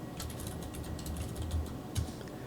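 Fast, quiet typing on a computer keyboard, a run of soft key clicks with a couple of heavier thumps, heard from close range.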